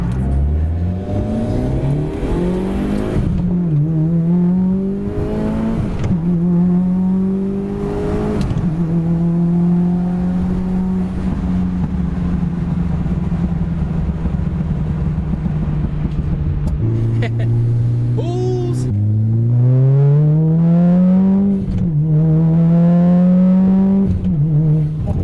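A Mitsubishi Evo 9 with a Tomei titanium exhaust drives along, its engine rising and falling through several gear changes with a droning, buzzy tone heard from inside the car, loud and continuous.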